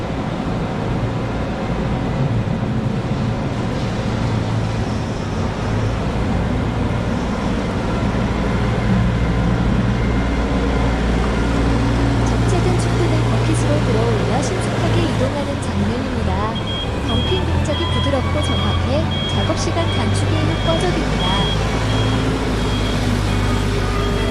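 A Hitachi ZW50 wheel loader works inside a cattle barn, its engine droning steadily with a low rumble. Faint high beeps and clatter rise later, and voices are heard over the machine.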